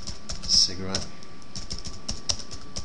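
Light, quick clicking of computer keyboard keys typing a short search phrase, close and fairly quiet, in irregular bursts with a voice speaking briefly over it.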